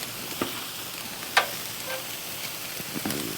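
Spare ribs sizzle over a fire in a smoker-style cooker, a faint steady crackling hiss broken by a few sharp pops and snaps.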